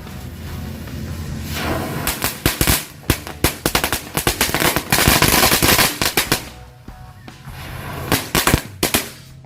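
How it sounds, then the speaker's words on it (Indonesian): Jumbo pretek firecrackers set off beside a house pop in long, rapid crackling bursts, loud and close, with brief gaps between volleys and no talk over them. "selanjutnya kita cobain mercon pretek yang jumbo"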